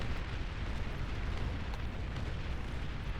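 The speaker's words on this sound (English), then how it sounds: "He's spamming a lot of these long range plasma cannons." Long range plasma cannons firing repeatedly in the strategy game Beyond All Reason, a dense, continuous rumble of booming blasts with no clear gaps between shots.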